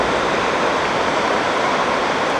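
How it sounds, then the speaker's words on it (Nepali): The Tinau river in Nepal flows past as a loud, steady rush of water with a dense, unbroken roar and no voices. "साथमा यहाँ नदी बगिरहेको छ"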